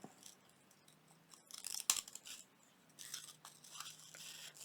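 Scissors fussy cut paper leaves for a junk journal collage, giving soft, close snipping and crisp crunching cuts in irregular bursts, with a sharper snip near the middle and quieter trims afterward.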